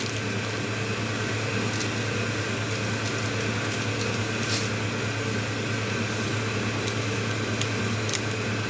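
An electric mixer whips egg whites with sugar and vanilla sugar at high speed toward meringue for a ten-egg sponge cake, giving a steady, even whirring drone that holds without pause throughout.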